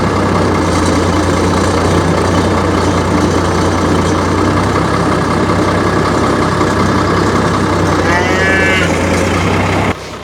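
Cattle moo near an idling Farmall 806 tractor while a hay bale is fed out; the engine's steady low rumble fills the whole span, and a single drawn-out, close moo rises near the end.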